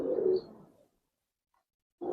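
Pigeons at a Giribaz pigeon farm give a soft, low coo that fades out, then after a short silence another coo begins, close and clear, with no talk.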